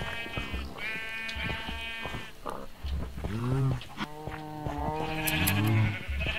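Sheep bleating in the video game Minecraft, several wavering bleats in a row, close and fairly loud, with a low grunting farm animal underneath.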